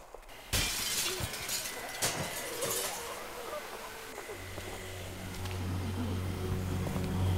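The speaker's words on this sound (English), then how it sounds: "Break the window." Window glass shatters in The Walking Dead video game: one sharp, loud crash followed by tinkling debris, then a low hum and quieter rustling in the background.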